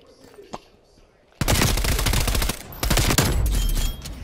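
Sustained automatic gunfire from a 4v4 multiplayer shooter match on the CrossRoad map, loud and dense for nearly three seconds, then a brief pause and another burst. A few faint sharp pops come before it, and the player does not speak during it.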